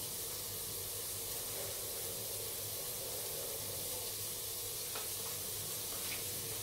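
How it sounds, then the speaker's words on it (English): Soya chunks fry in a pan, giving a steady, even sizzle and hiss that carries on without a break, close by and moderately loud, with no voices. "And now the soya chunks are starting to get brown."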